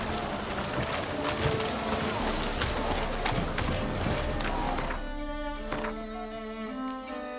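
Dense roaring storm rain and gusting wind in The Witcher 3 fill the first seconds, then ease back as tonal game music takes over.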